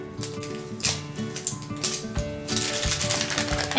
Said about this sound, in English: find our first zipper and go ahead and pull this first layer off